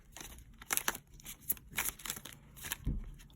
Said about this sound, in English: These decks are already pre-shuffled. I'm just shuffling for you guys.